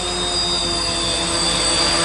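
A modified X-cam quadcopter with carbon tubes flying, a loud, steady, high-pitched whine of spinning motors and propellers that holds constant throughout.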